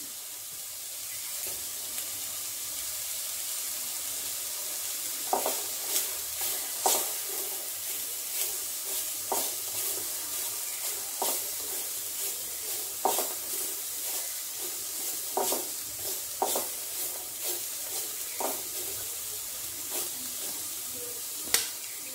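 Beans stir-fry in a pan for chicken soup, a soft background sizzle with repeated light scrapes and taps from stirring, fairly quiet, no talk.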